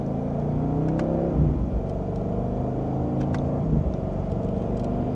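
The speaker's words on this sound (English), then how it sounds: "And just a mild acceleration," A 2026 BMW M850i Coupe in Sport Plus mode, second gear, pulling through a mild acceleration from inside the cabin, its exhaust a steady, loud rumbling drone that rises in pitch and then shifts as it climbs.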